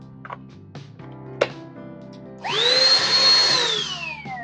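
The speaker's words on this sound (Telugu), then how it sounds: "బ్లోయర్ కమ్ వాక్యూమ్ క్లీనర్ రెండు వైపులా 2 in 1." A handheld 2-in-1 electric blower and vacuum cleaner is clicked a few times, then its motor whines up loudly to a high, steady pitch and begins winding down near the end.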